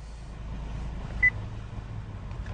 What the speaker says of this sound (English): every single piece of data is another beep response sequence